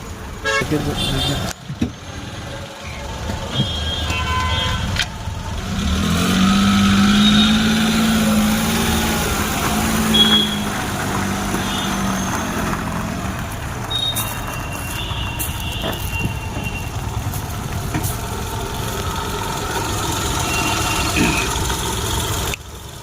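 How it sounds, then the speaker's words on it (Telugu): A car engine runs and the vehicle drives with no battery fitted and the bonnet closed, a steady mid-loud engine drone throughout with a brief horn toot, and someone talks over it. "చూడండి, ఇప్పుడు బండి మూవ్ చేస్తుంటాను బ్యాటరీ లేకుండా."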